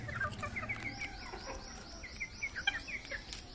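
Bantam and Sonali hens cluck in quick, repeated bursts, faint and fairly close in a farm yard, with no one talking.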